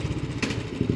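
A Royal Enfield Bullet motorcycle arriving, its low thumping engine rumbling close by for about a second with a brief clatter partway through.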